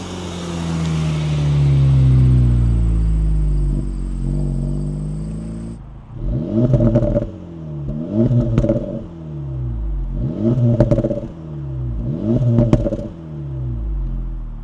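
A stock 2025 Acura Integra Type S engine revs repeatedly in four sharp bursts after a long steady drone, each rise followed by crackling exhaust pops.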